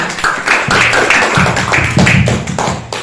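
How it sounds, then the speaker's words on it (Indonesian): Audience clapping for contestants at an Islamic religious quiz, a steady rhythmic patter of hands that runs loud and continuous throughout. "berikan tepuk tangan untuk semuanya"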